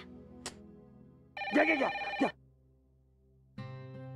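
A mobile phone rings out while a call is being placed, giving a loud tonal ring, a pause, then another ring starting near the end, over a faint low hum with no talking.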